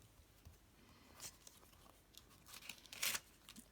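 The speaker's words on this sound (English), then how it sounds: "Just going to get rid of this sticky piece of paper." Sticky paper peeled and torn away during a card-making craft session, a few quiet rustling rips with a sharper crinkly tear near the end, close and soft.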